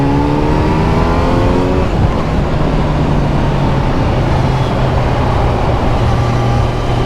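A Kawasaki Z900 motorcycle engine revs hard on a mountain ride, a loud continuous roar whose pitch climbs then drops and settles into a steady drone, heavy wind rumble throughout.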